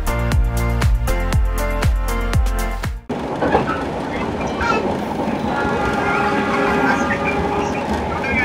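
A stainless steel Argo Parahyangan passenger train running between Gambir and Bandung rolls past nearby with steady rumbling and wheel noise on the rails, after a stretch of rhythmic music at the start.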